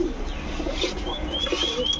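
A pair of full silver pigeons, a male and a female, at a pigeon shop, giving low rolling coos with a few faint higher chirps mixed in against a busy background.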